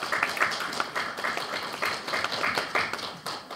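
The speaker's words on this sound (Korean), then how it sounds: "다시 한번 손열 원장님께 큰 박수 부탁드립니다" A conference audience applauds a speaker at a session on Korean democracy, with steady, fairly faint rhythmic clapping from a crowd continuing alone throughout.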